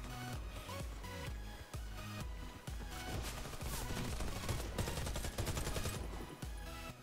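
Pump-action shotgun fire in Warface amid a busy firefight, with repeated heavy blasts and other gunfire layered densely over loud battle noise.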